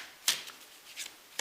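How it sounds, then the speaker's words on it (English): Glossy oracle cards are shuffled close by, giving three quick papery riffles and flicks with brief gaps between them. No one speaks. "no, they're shuffling quite well"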